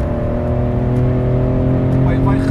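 A Nissan 300ZX twin-turbo V6 held at around 4000 rpm from inside the car, a loud, smooth, steady engine drone with strong low harmonics and a faint whir, no speech over it.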